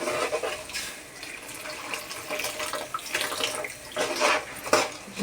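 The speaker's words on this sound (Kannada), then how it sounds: "ಎರಡು ಗ್ಲಾಸಸ್ ನೀರು ಹಾಕೋತಾ ಇದ್ದೀನಿ" Two glasses of water poured into a cooking pot holding jaggery, splashing in uneven bursts with a few louder pours toward the end.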